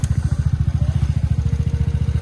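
The engine of a new Hunter motorcycle idles up close, making a loud, even stream of rapid low thumps that never break rhythm.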